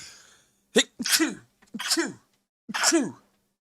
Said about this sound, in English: Ooh, I could never just sneeze once.